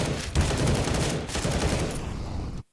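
Sustained automatic rifle fire from a Galil in Counter-Strike at an esports tournament match, a dense rattling burst with overlapping shots and game noise that runs for over two seconds, then cuts off abruptly.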